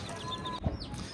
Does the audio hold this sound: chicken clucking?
yes